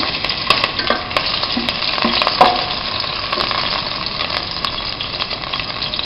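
Sliced green chillies frying in oil for a Kerala squid roast, a steady crackling sizzle close to the pan with brief sharper pops and light stirring scrapes, no voices.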